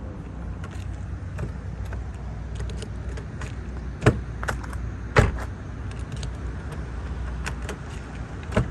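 A car door lock engaging outdoors in a tree-lined area after hurricane storm damage, heard as a couple of sharp, distinct clicks over steady low outdoor rumble and ambient noise.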